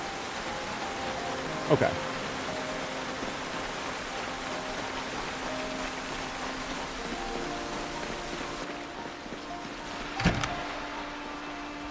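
Steady rain heard from indoors in the Project Zomboid video game, a constant even hiss throughout, with two brief sharp knocks and a single short spoken word.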